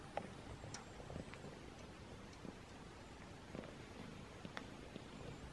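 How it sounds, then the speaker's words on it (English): A quiet, steady low rumble of a cat purring close by, with faint scattered ticks and rustles over it. "She's purring."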